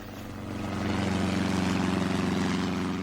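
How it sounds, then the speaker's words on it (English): A propeller plane drones steadily through mist over countryside between Hatfield and Welwyn outside London, coming in to land, its engine hum swelling and then holding loud and continuous. "A plane flying through the mist which shrouded the countryside between Hatfield and Welwyn, just outside London, and coming into land."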